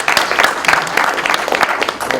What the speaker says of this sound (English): You're allowed to applaud yourselves.